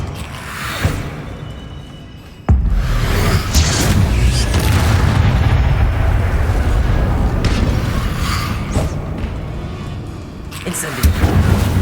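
An Incendio fire spell is cast in the video game Hogwarts Legacy, giving a sudden loud whooshing boom that leads into a sustained roaring rumble, with fainter booms before and after.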